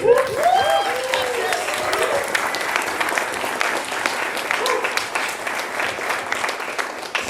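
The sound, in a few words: audience applause at concert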